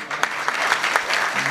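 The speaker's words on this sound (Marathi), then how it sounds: "वाजवा टाळी" An audience claps together at a Marathi kirtan, sharp and fairly rhythmic hand claps in a loud room, with a voice and low hum beneath the clapping.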